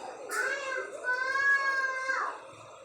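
A cat meows in one long, drawn-out call with a rising and falling pitch, fairly close and clear over a quiet room background, with a brief higher squeak at the start.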